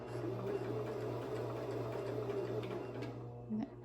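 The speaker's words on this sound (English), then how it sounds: "let me turn it on. Now that the needle is out of there, we can go ahead and play with this." Sewing machine running with the needle removed, a steady mechanical hum and whirring drone held throughout at pedal-controlled speed, close and continuous, ending with a small change in pitch.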